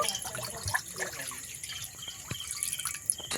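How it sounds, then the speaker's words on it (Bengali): Water poured into a pot of cut potatoes set to boil over a wood-fired stove, heard as a short run of close drips and splashes with no speech. "প্রথমে আমি জল দিয়ে দেব আলুটা সেদ্ধ করে নেওয়ার জন্য"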